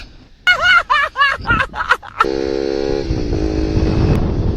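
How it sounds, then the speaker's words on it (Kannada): Bajaj NS200 BS6 motorcycle with an aftermarket exhaust and no DP killer, a steady loud engine drone with rising revs after a few seconds of voices talking nearby at the start. "NS200 ಬೈಕು ಅದರಲ್ಲಿ ಇನ್ಸ್ಟಾಲ್ ಆಗಿರೋದು ಎಕ್ಸಾಸ್ಟ್ ವಿತೌಟ್ DP ಕಿಲ್ಲರು"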